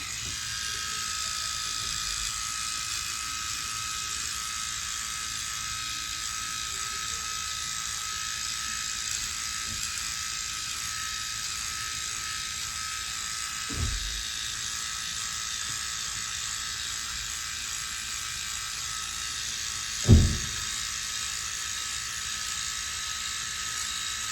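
A Freebird FlexSeries electric shaver buzzes steadily and close by while shaving hair, a constant high whine with a couple of brief knocks near the end.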